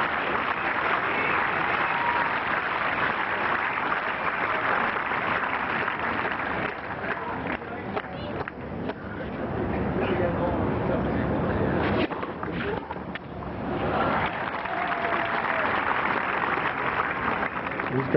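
Tennis crowd at Roland Garros clapping steadily to rally Pete Sampras in a 1999 first-round match against Marin, a dense sustained wash of applause that dips briefly midway before swelling again.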